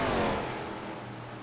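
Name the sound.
race car engine blowing, Gen 6 Cup car replay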